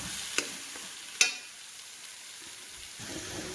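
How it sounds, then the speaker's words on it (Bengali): A utensil stirs taro leaves with a fish head in a pan, giving a faint, quiet scrape with two sharp clinks early on and a soft low sizzle underneath. "শাকটা আমি মাছের মাথা দিয়ে নাড়তেই আছি।"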